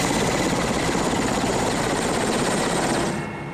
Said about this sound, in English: Tourists flying to the famous Valley of Geysers by helicopter